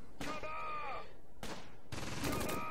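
Mortar strikes in a Gateway to Caen World War II video game, three sharp bursts of blasts and rumbling debris arriving in quick succession, loud and close.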